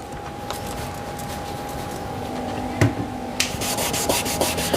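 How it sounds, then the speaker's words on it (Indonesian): Sandpaper of 400 grit rubs steadily over a yellowed car headlamp, a continuous close scratchy sanding with a few sharper knocks and quicker strokes toward the end. "kita gunakan amplas 400 untuk mengamplas"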